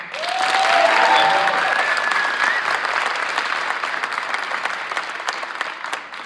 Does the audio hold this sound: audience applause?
yes